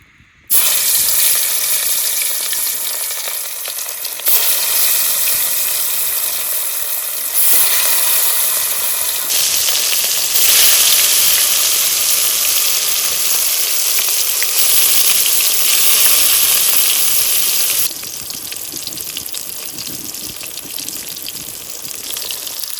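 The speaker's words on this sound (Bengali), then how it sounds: "প্রথমে দিয়ে দিচ্ছি সরিষার তেল মাছ ভাজি করবো" Fish frying in hot mustard oil, a loud, continuous broadband sizzle and hiss that surges in several stepwise bursts, close up with no voices.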